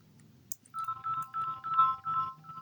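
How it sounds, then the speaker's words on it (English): A ringtone melody plays from the newly replaced speaker of a repaired Samsung Galaxy A05 phone, a short series of bright repeating electronic notes at moderate volume, heard close up with a low hum underneath. "let's try to test the volume on the ringtone."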